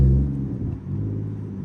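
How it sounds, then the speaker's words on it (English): A single-turbo BMW 335i with a straight-piped exhaust gives a deep, low rumble as it drives, a brief steady drone with slight swells in revving and no talk. "Yeah, the exhaust is super low."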